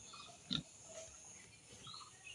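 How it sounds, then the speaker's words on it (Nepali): A pig gives a single short, fairly close grunt on a farm plot. Quiet outdoor ambience fills the rest, with no talking. "यहाँ चाहिँ छ सुँगुर"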